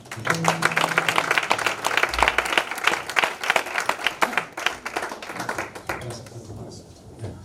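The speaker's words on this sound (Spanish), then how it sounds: "Dale aplauso al Señor." A church congregation claps for the Lord at the close of a sermon, many hands in lively, dense applause that gradually thins out and dies away, with a voice speaking over it.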